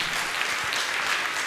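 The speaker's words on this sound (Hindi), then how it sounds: "अच्छे से बजाई तालियां।" A large audience at a Jain religious discourse claps in a dense, steady burst, loud and continuous throughout.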